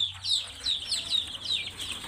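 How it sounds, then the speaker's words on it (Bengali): Large hill-breed (pahari) chickens cluck in short repeated calls close by, several birds overlapping against a low steady background hum. "এই সেই পাহাড়ি জাতের বড় মুরগিগুলো।"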